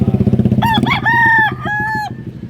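A rooster with red eyes and green legs crows loudly and close by, a long drawn-out cock-a-doodle-doo breaking in after a run of rapid clucking.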